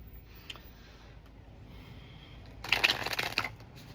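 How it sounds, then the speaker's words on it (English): Tarot cards being shuffled by hand, a faint riffle near the middle, then a louder, denser burst of card shuffling for about a second near the end, with no talk. "I'm so sorry for the sound of the cards. Maybe it's very loud."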